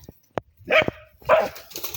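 A dog barks sharply several times in short bursts while fighting a cobra, the barks close and loud with brief gaps and a couple of whimpering yips between them.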